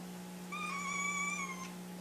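A big six-month-old kitten lets out a single high-pitched, squeaky meow lasting about a second, close and clear over a steady low hum.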